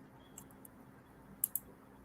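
Faint, sparse clicks on a computer, a few soft taps followed by two sharper, closer clicks in quick succession over a quiet background.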